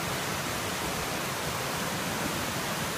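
A river swollen to flood after overnight rain, at Lower Waimano, roars as a dense, steady broadband rush of water that fills the clip without a break.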